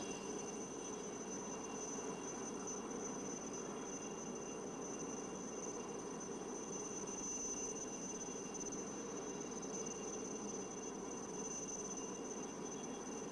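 A Chetak helicopter hovers during a rescue winch demonstration at a Beating Retreat and Tattoo ceremony at the Gateway of India, Mumbai, giving a steady, distant engine and rotor drone with a thin high whine throughout.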